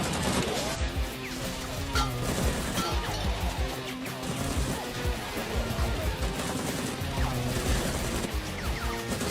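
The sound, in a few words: gunfire in an action movie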